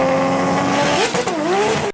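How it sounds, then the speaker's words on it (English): A Nissan RB26 engine revs loudly and close by, its pitch climbing, dipping and rising again through a couple of quick throttle blips, with no talk over it. "The RB26 is one of my favourite sounding engines ever"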